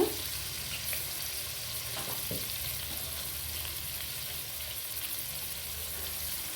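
Curry leaves and turmeric frying in hot oil over a medium gas flame, a continuous close sizzle with occasional light stirring clicks.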